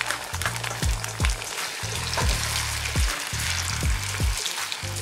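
Beaten egg fries in a well-heated pan for tenshinhan, a Japanese crab omelette over rice, with a steady hissing sizzle and a series of quick descending sputters and pops as the hot fat spits.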